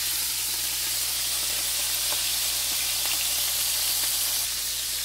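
Fish frying in a pan until golden and crispy gives off a loud, steady sizzle and hiss, close up and unbroken throughout, with no voices.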